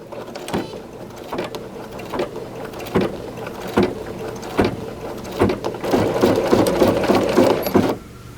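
A Bernina B790 Pro sewing machine quilts in the hoop, a close mechanical whir broken by regular thumping stitch bursts that grow busier and faster toward the end before stopping.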